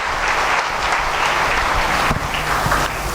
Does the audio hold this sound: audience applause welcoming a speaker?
yes